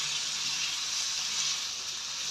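Chopped large onions fry with boneless chicken in a handi pot, giving a steady, close hiss of sizzling oil that holds even and constant throughout with no talking.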